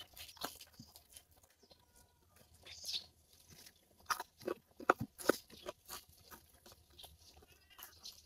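Crispy pata, a deep-fried pork leg, crunched and chewed during a mukbang meal, with sharp irregular bites and crackles close to the mic and soft talk in between.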